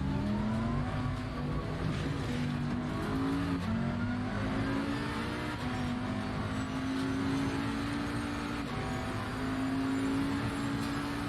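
A Bentley race car's engine in a sim racing game at the Zolder short track, a steady loud drone that rises and falls with gear changes and throttle through the corners, continuous and close.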